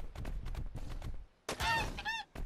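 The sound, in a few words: chicken clucking in the video game ARK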